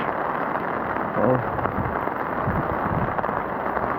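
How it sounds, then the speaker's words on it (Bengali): Rain falling outdoors on a street in Korea, a continuous broadband hiss close by, with a muffled voice faintly present partway through. "বৃষ্টি হচ্ছে একটু দেখেন"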